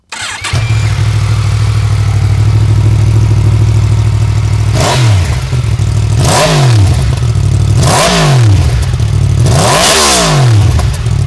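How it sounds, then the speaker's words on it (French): A Yamaha MT-10 SP motorcycle's crossplane engine fires up and idles with a deep, rough burble, then four sharp, loud revs rise and drop back in quick succession. "se distinguent particulièrement au niveau du son sur la Yamaha MT10 du fait de son calage crossplane"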